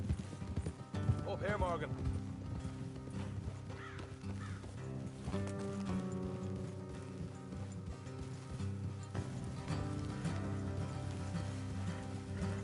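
Horse hooves clip-clop in Red Dead Redemption 2 as riders travel along a road, a steady rhythmic trot under game music and a man's brief spoken line.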